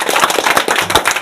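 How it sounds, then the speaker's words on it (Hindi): Crowd clapping loudly and briskly to welcome a winner of a fishermen's cooperative election in Biraul, a dense close burst of many hands with no voices over it. "मैं सबसे पहले ये कहूँगा कि जोरदार तालियों से एक बार इनका स्वागत करें।"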